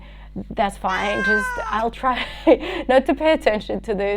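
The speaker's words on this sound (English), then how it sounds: "don't worry, it's just my cat." A pet cat meows repeatedly in a room, the cries mixed in with someone speaking steadily over them.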